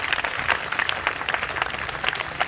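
A church congregation at an evangelism crusade claps and cheers, a dense, continuous patter of applause from a large crowd.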